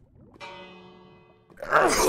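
A bell in the Minecraft video game rings once with a sustained, steady metallic tone that fades, followed by a burst of louder broadband noise.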